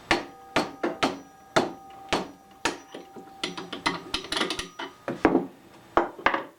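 Sharp hammer blows knocking a small part free from a Strickcraft Sierra Vista boat's gear, a quick irregular series of close metallic-wooden taps, some spaced, some in fast clusters.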